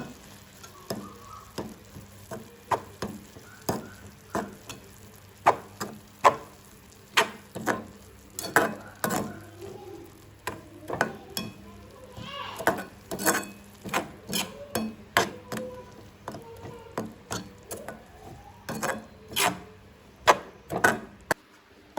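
A spoon stirs colouring powder into a thick coconut burfi mixture made with Rinpal in a pan, making steady rhythmic scraping knocks and soft sticky squelches, close and clear, with no talking.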